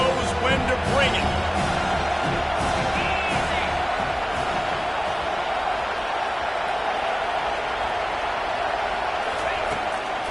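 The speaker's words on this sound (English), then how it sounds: "This crowd knows when to bring it." Football stadium crowd cheering at a USC versus Colorado college game, a loud, dense roar sustained steadily throughout with bursts of whoops and commentary voices talking over it.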